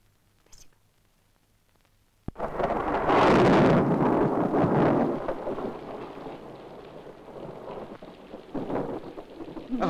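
Quiet at first, then a sudden loud burst of heavy rain with a rumbling roll of thunder that slowly eases into steady downpour.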